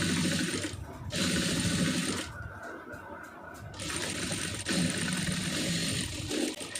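A sewing machine stitches a lining and main piece of an aari blouse sleeve, a close, steady mechanical chatter that runs almost continuously with one short pause partway through.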